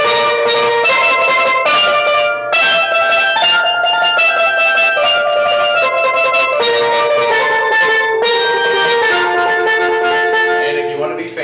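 Bright, ringing steel pan notes struck in a quick run, overlapping and sustaining, played close with no voices.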